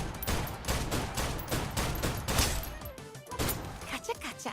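Rapid bursts of gunfire from the video game P5X, a dense volley of repeated shots with sharp transients running almost continuously, fairly loud and close, with voices faintly mixed in.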